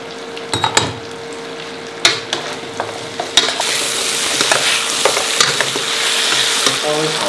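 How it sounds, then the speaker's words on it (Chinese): Pork ribs stir-fried in a wok with light and dark soy sauce and shiitake mushrooms, crackling and sizzling while a utensil scrapes and clatters against the pan in irregular strokes. "排骨炒个两三分钟，下香菇"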